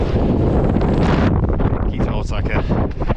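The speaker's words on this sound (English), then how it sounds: "as you can tell, it's fairly windy as well. You're probably getting buffeted by it now." Strong mountain wind in the Northern Japanese Alps near Mount Yari batters the microphone with a loud, low roaring rumble, briefly easing and then surging again, with a voice partly audible underneath.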